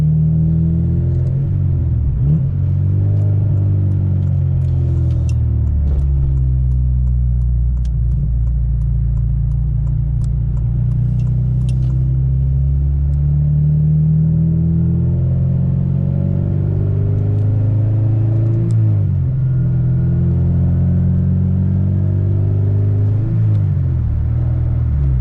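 A Honda Civic Si with a K24 engine and a raised rev limiter drones steadily and loudly, its engine note rising and falling in long sweeps, close up, with no talk.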